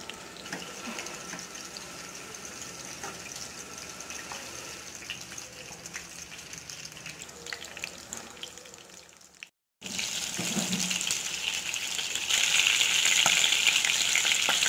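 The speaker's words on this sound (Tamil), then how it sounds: "ஒரு மீடியம் ஃப்ளேமில் நம்ம இதை வந்து ஃப்ரை பண்ணி எடுத்துடலாம்" Chicken wings deep-fry in oil over a medium flame, a constant crackling sizzle that briefly cuts out, then returns louder and brighter with busier popping toward the end; no talking.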